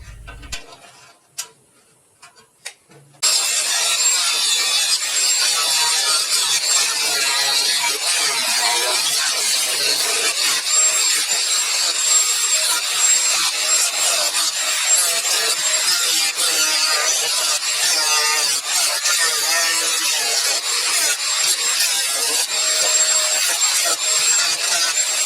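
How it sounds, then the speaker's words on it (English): Cutting tool slicing into the metal mower deck of a John Deere mower under restoration, starting after a few quiet seconds and then running loud and continuous with a harsh, gritty grinding rasp and no talking. "I'm just going to finish up cutting on the inside of the deck."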